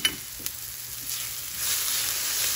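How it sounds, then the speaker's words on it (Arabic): Curry, paprika and garlic powder toast in a frying pan with a soft sizzle that grows steadily, along with a couple of light stirring taps near the start. "بنقلب مع بعض لحتى تتحمص كل هالبهارات ونبلش نشم ريحتها الحلوة"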